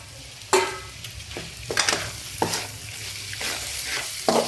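Spatula stirring fried egg into egg fried rice in a hot pan, about half a dozen scraping strokes spaced roughly evenly, each over a light sizzle, close and clear with no talking.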